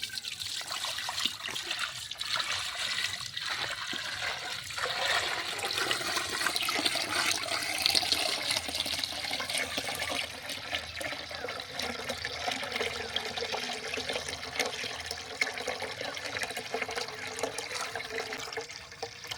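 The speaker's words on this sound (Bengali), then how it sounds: "এই উপরের জলটা পুরো কিন্তু গড়িয়ে দিতে হবে দেখুন পুরো জলটা গড়িয়ে দিলাম" Water poured slowly off settled homemade starch into an open clay pot, a steady continuous trickle and splash running close by for the whole stretch, with no talking.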